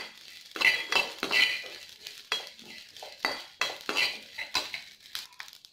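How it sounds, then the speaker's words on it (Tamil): Fennel seeds dry roasting in a pan, stirred with a metal spoon: repeated close scraping and clinking strokes in an uneven rhythm, with a faint crackle between them and no voices. "அதையும் நல்லா வாசம் வர அளவுக்கு வறுத்துக்குவோம்."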